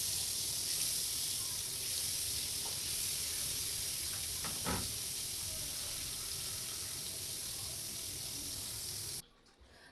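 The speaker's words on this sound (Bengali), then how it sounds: "মাছটা ফ্রাই প্যানে দিয়ে দিলাম।" Fish sizzling in a little oil in a frying pan gives a steady, fairly loud hiss with small crackles for about nine seconds, then cuts off abruptly.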